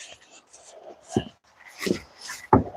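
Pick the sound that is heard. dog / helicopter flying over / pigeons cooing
dog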